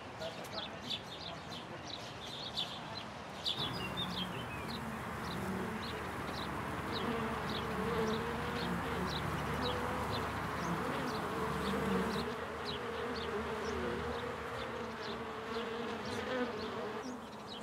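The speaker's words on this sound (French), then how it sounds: "On a des ruches dans le cimetière aussi, des abeilles qui produisent un miel très propre" Honeybees from beehives in a historic cemetery buzz continuously in a dense, steady drone with many close insect passes, while someone speaks French over it.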